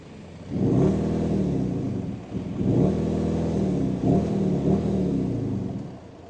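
Engine of a VW Golf 7 GTD diesel running in sport mode, a loud, steady mid-pitched drone with harmonic layers that swell and dip slightly as revs change, heard alone and close.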